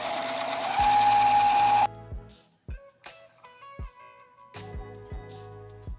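A Juki TL 2000 QI sewing machine stitching denim jeans: a steady mechanical whir opens the clip, then breaks into short stop-start bursts of stitching with quiet gaps between them.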